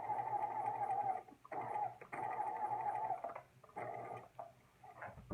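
A sewing machine stitching a seam down the centre of a fold runs in several short whirring bursts separated by brief pauses, quiet and close, with no voices.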